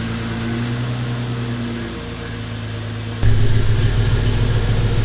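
A Jeep XJ engine idles with a steady low hum, then shifts into a louder, deeper drone as the vehicle sets off, close and continuous.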